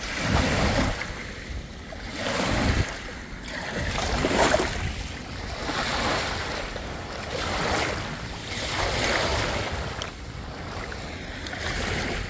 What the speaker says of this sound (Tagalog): Lakas na alon na.